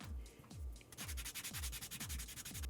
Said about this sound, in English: I'm going to go through with the rest of my sanding blocks here.